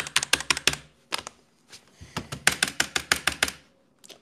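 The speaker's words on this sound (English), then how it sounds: "Why is my keyboard so loud?" Loud computer keyboard typing in two quick bursts of clacking keystrokes with a short pause between, close and alone.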